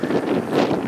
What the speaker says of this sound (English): I hate that wind